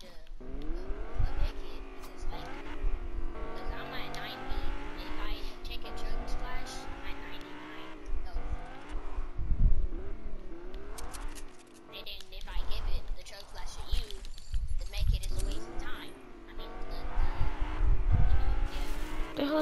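A car in Fortnite revs and swerves with rising and falling engine pitch and bursts of tire squeal, while people talk over it throughout.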